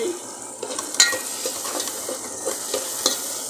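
Tomatoes fry for chicken curry, a continuous sizzle broken by repeated light scraping strokes of a spoon in the pan, close up with no talking.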